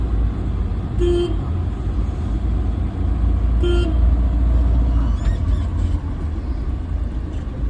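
A car horn sounds from a driving-school car on the road in Changanassery, Kerala. Two short, clear honks a few seconds apart ring out over constant engine and road noise.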